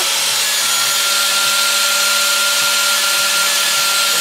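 Power grinder cutting wax off a bottle, a steady, loud, continuous whirring hum with a constant high whine, unbroken throughout and with no talk over it.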